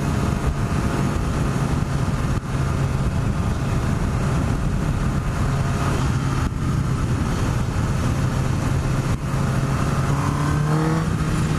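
A 2017 Honda CBR1000RR SP sport motorcycle engine runs loud and close on the road, holding a steady roar under constant throttle, with rising tones toward the end as it pulls harder.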